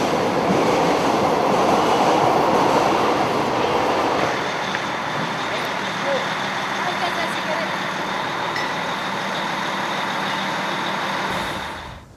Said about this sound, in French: t'écoutes les métros non-stop